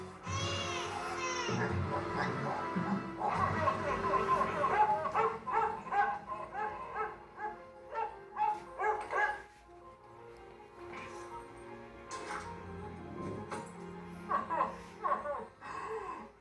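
A dog yips and whimpers in high, wavering bursts, some sharp barks mixed in, fairly close with short pauses between.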